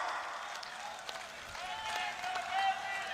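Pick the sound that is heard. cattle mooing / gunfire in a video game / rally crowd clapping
rally crowd clapping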